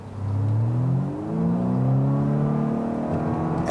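Hybrid car cabin noise played through the speakers: an appliance-like whirring hum with smoothly rising and falling tones like revving, steady and fairly loud, with no voices over it.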